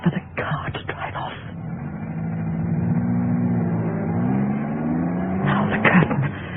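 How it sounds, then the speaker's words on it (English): A car driving off, staged as a sound effect for a live radio theatre play, a steady mid-pitched engine drone with rising and falling pitch after brief clattering, fading into more scuffling noises. "Wait for the car to drive off."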